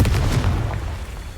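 A Confringo spell explosion in Hogwarts Legacy, a deep booming blast with rumbling pops that fades over about a second.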